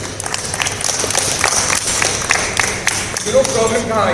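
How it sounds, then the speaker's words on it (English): Audience applause at a college event, an uneven patter of clapping and crowd noise at moderate level for several seconds, with a brief voice near the end. "give a big round of applause for yourself"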